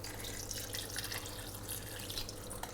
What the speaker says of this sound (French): On vient compléter avec un peu d'eau.